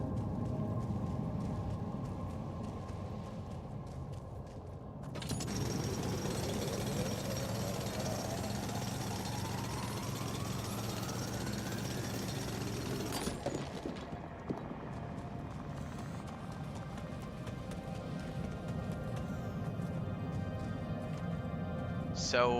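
Drilling through rock in the video game The Alters: a loud, steady mechanical grinding roar starts suddenly, holds with a rising whine for about eight seconds, then cuts off, over low background game ambience.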